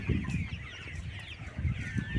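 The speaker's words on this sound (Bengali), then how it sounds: "আমার এখানে যে লেয়ার মুরগিটা দেখতেছেন" A layer hen, seventy-two days old, clucks in a backyard or rooftop poultry setup, with soft repeated clucks and low rustling carrying steadily through the short stretch.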